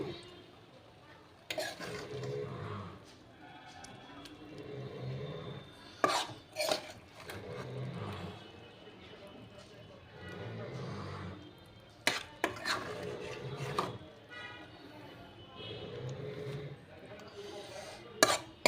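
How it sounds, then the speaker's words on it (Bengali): Spinach curry with fish roe being served with a ladle, with intermittent metallic clinks of utensils against a pot rising above a steady background hum and occasional talk. "এবার আমি একটা হাতা দিয়ে এটাকে সার্ভ করে দিচ্ছি।"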